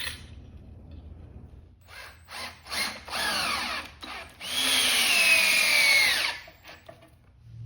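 Power drill driving 2.5-inch 3/8 lag screws into a shop-made anvil stand, heard close up as several short bursts followed by one long, loud run that winds down under load.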